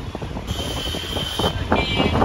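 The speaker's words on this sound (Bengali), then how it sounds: "যদিও বৃষ্টি নাই, প্রচন্ড পরিমাণে বাতাস আছে।" Strong wind roars over the phone microphone during a motorbike ride, a continuous low buffeting rush with a brief higher whine partway through, growing louder toward the end.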